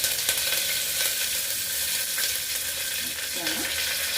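Curry leaves dropped into hot oil for a tomato bath, giving a loud, dense, steady sizzle that crackles up close and fills the whole stretch, with a brief faint voice near the end.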